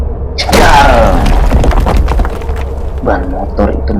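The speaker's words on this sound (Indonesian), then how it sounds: "ban motor itu meledak dengan sendirinya" A motorbike tyre bursts with a sudden loud boom and crack, followed by a rumbling tail and a second, smaller thud a few seconds later.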